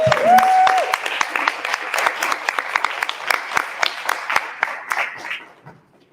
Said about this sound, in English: give them a round of applause as they're coming up